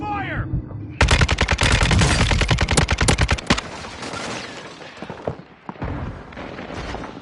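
Loud bursts of automatic gunfire from Call of Duty Modern Warfare 2 in DMZ mode, a rapid crackling volley lasting a few seconds, then sporadic shots and softer game sounds; no talk.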